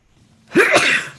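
A single sharp human sneeze, close and loud, a quick inhaled catch followed by an explosive burst lasting about half a second, during a live music chat.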